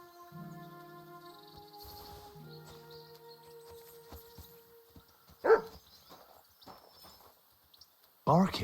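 Dog barking in the medieval video game Kingdom Come: Deliverance 2, two short sharp barks, one mid-clip and one at the end, amid quiet game ambience and faint voices.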